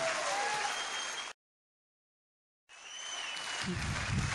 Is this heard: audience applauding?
yes